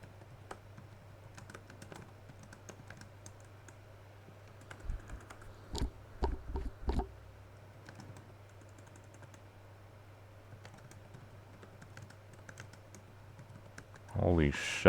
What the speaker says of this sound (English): I'm typing text.